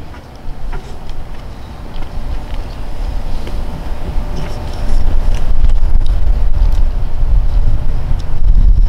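Steady wind buffets the microphone outdoors with a low rumbling roar, growing stronger and gustier about halfway through.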